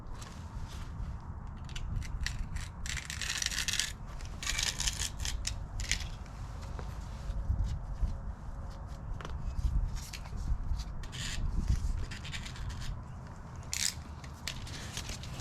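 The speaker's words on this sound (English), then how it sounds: "I'm going to take my new screen and cut a size that's somewhat close to that window, press it in, and then cut all the excess." Scissors snipping new window screen mesh to size for a camper shell window, a run of close, irregular crisp cuts and crunching clicks over a low background rumble.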